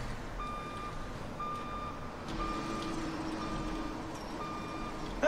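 Steady, repeating reversing beeps from a patrol vehicle in a GTA prison-service game, sounding continuously at an even pace over low engine rumble and road noise.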